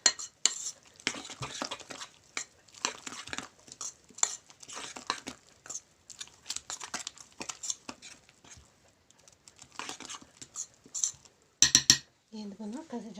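An oat cutlet mixture with two spoonfuls of flour just added is stirred in a bowl, giving close, irregular scraping and clinking of a utensil against the dish, with brief pauses and a short burst of clatter near the end.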